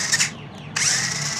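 A small motor on a gesture-sensing RC stunt car whirs in a short, steady high-pitched drone, briefly dipping and then surging back up close by, with no talking.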